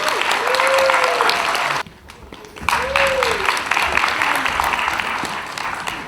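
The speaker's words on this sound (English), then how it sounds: "Can I have a round of applause for him?" Audience at a Windrush 75 Black art spoken-word event gives a round of applause, dense clapping throughout with a brief dip midway, while a voice talks over it.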